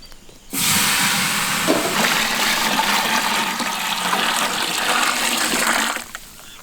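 A steady rush of water pours for about five seconds into a pot for rice, loud and continuous with no talking, then stops abruptly.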